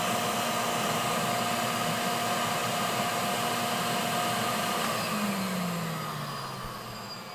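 A Pro-Ject VC-S wet vacuum record cleaning machine runs with a steady, loud motor drone and suction hiss. Near the end the pitch sags and the noise fades as it spins down.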